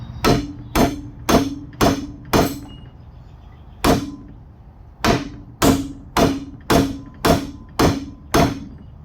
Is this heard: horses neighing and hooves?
no